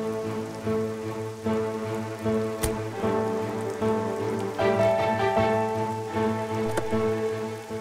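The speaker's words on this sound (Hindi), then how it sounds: "अरे ये तो बारिश होनी शुरू होगी।" Rain beginning to fall outdoors beside a car with a punctured tyre, a steady patter of drops on a surface mixed with a sustained tonal background sound.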